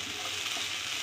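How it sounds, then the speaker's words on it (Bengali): Chopped onions fry in hot oil with cumin seeds in a pan, giving a steady, close hiss and crackle of sizzling with no break. "পেঁয়াজ কুচিটা লাল করে ভাজবো।"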